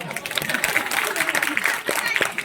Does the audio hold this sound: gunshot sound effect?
no